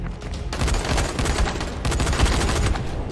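Sustained bursts of enemy gunfire in the video game Dying Light, loud and dense rapid shots rattling continuously with brief gaps, explosive tanks nearby in an arena fight.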